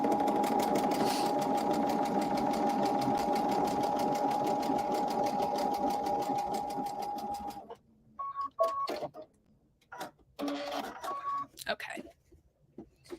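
A sewing machine runs steadily while stitching quilt block pieces for a scrappy leaf block, a continuous close whirr for about seven seconds, then stops, leaving brief handling clicks and short bursts of quiet talk.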